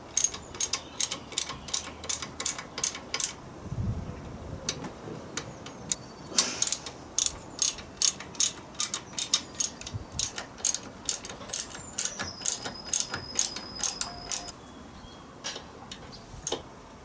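A ratchet wrench clicks in rapid, regular bursts while undoing bolts on a Harley Sportster motorcycle, with crisp, close ratcheting strokes repeating throughout and brief pauses and a thud between.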